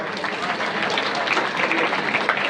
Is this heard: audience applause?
yes